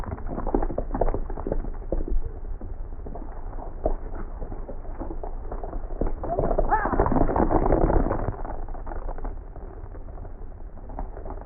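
Horses gallop on open range in a 1939 cowboy western, with rapid hoofbeats thudding and clattering over a muffled, old film soundtrack and rising and falling in a dense rush.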